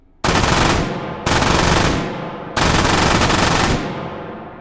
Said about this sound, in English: And that was 50 rounds.